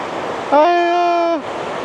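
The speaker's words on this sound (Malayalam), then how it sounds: "നല്ല ഒഴുക്കുണ്ടല്ലോ" Strongly flowing water gives a steady broad rush throughout, briefly overlaid by a sustained voiced vocal sound in the middle.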